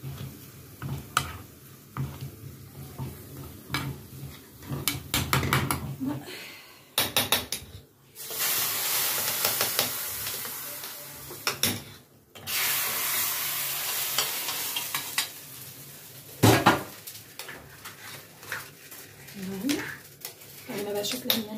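Vermicelli frying in a pot, stirred now and then, with steady sizzling broken by scraping and clinking of the utensil against the metal, close and moderately loud, with short pauses between bursts.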